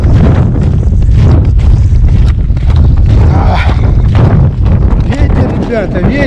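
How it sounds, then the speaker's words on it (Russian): Strong wind buffets the microphone with a constant loud roar and rumble, steady throughout with gusting surges, while grayling fishing outdoors. "Ребята, ветер просто все сносит."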